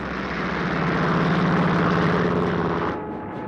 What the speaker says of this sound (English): the one surviving Japanese carrier, Hiryu, now launched her aircraft